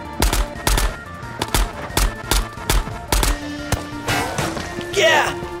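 Gunfire in the VR extraction shooter game Ghosts of Tabor: a rapid series of sharp, loud shots in quick bursts, some spaced irregularly, with overlapping game sounds and brief tones late in the clip.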